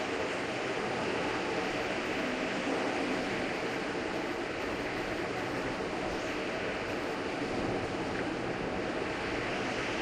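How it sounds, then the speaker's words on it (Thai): Strong wind blows across a sandy mining area in the survival video game Last Day on Earth, a steady, dense, roaring rush that stays constant for ten seconds with no speech over it. "ลมแรงเหมือนในชีวิตจริงเลย"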